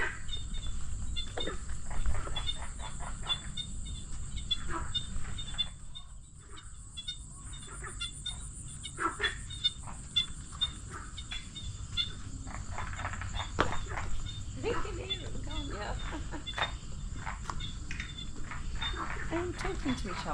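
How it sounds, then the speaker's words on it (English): Frogs call by a lake at night in Tam Coc, Ninh Binh, Vietnam: a dense, steady chorus of rapid, repeating croaks and trills from many animals, continuous throughout, with low voices murmuring in the background. "So you can hear the frogs."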